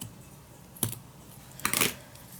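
Two short, crisp snips of scissors cutting fabric for stitchery work, the second slightly longer, quiet and close with no talking.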